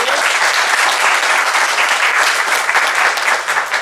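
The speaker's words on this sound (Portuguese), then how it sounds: "Quero pedir uma salva de palmas aí para o professor e para você." An audience at a law talk applauds in a loud, dense, steady burst of clapping lasting several seconds, with no voices over it.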